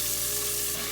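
Beef chunks browning in a stew pot give a short, steady sizzle and fry hiss, close and even, with no talk.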